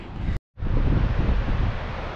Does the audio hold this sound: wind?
yes